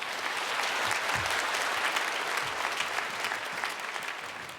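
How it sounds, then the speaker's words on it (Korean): A church congregation at Sarang Church's special dawn revival service claps to welcome a speaker, a full, steady wash of applause throughout with faint voices beneath. "우리 현승훈 의장 나올 때 박수로 환영하겠습니다."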